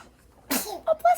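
A single sudden sneeze bursts out near the mic during a read-aloud, followed by a brief voiced breath or sound right after.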